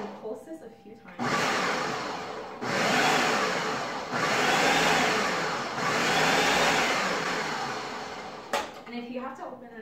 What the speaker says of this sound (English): this is a food processor and it does have a pulsing mechanism